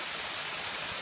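A waterfall on a hiking trail near Mt. Mitchell, North Carolina, heard as a steady, dense rushing hiss with no breaks, full and even throughout.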